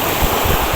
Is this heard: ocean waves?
yes